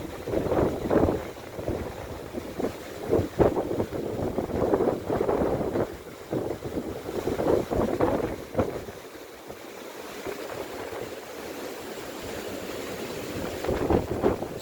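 Strong storm wind by the sea in Antalya roars in loud, gusting surges against the microphone, with a steady rumbling wash of waves underneath and a brief lull partway through.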